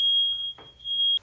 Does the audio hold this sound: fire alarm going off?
yes